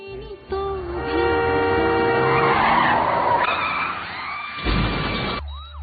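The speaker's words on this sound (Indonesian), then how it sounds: "mobil melaju kencang dan menabrak Ananya." A car roars past at speed with tires skidding, a rising engine and screeching tone, then a sharp impact thud near the end.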